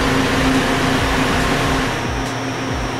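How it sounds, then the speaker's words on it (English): HEPA filter trailer blowers running at maximum flow, about 18,000 CFM, make a loud, steady roaring whoosh with a low hum, continuous and close throughout. "the blowers are certainly running at their maximum effort"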